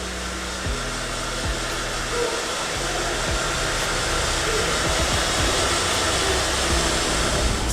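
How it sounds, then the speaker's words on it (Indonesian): A hair dryer blowing steadily while drying hair during a smoothing treatment, a continuous loud whooshing hum with faint clicks and handling bumps, no talk. "rambut dikeringkan dengan hair dryer sampai betul-betul kering"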